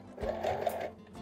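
A sewing machine running a zigzag stitch on fabric for a soft toy's cheek: a short, close, quiet whirring burst of rapid needle strokes lasting about a second.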